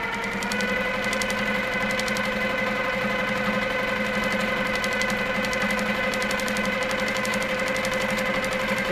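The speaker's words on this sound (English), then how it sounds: "I keep stitching, taking that stitch pattern right into the black" A sewing machine runs steadily, stitching a feather texture pattern into fabric, its motor holding a constant mechanical hum beneath a rapid, even needle rattle, close and continuous without voices.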